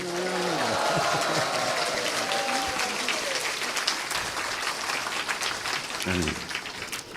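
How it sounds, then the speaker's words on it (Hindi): A seated audience at a swami's glorification gathering breaks into sustained applause, a thick continuous clatter, with voices calling out over it near the start and again near the end. "आप सब तालियां बजा के इनका धन्यवाद करो।"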